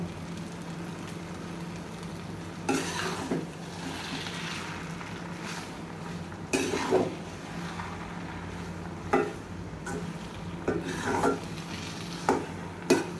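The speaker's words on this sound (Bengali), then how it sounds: "এখন এরমভাবে ভালোভাবে করে নাড়াচাড়া করে নিতে হবে" Noodles stirred and tossed in a pan at home, with a steady low kitchen hum beneath and several brief scraping, clattering strokes recurring every second or two; no one speaks.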